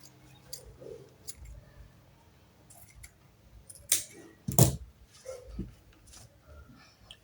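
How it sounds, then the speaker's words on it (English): Scissors snip off the extra fabric at the end of a padded braided headband, a few close crisp cuts near the middle, with faint handling rustles and soft taps around them and no talk. "So I'm going to cut off the extra at the end"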